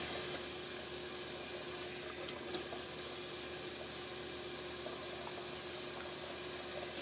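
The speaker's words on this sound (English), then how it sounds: "I'll do a quick little cold water rinse." Cold water running steadily from a bathroom tap into a sink for a rinse after a wet shave, a continuous even hiss with a brief splash partway through, no voices.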